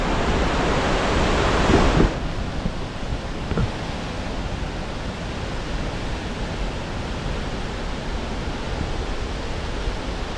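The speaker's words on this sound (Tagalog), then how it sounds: "Wow, very majestic falls." Bayog Falls in Talakag, Bukidnon, roars as a constant, dense rush of falling water. It stays steady and fairly loud throughout, with no voices over it.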